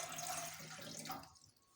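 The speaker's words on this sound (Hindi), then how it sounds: "फिर उसमें आप ऐड करेंगे 3 गिलास पानी" Water is poured into a pot for Kashmiri pink tea, making a soft, steady splashing stream that trickles away to quiet near the end.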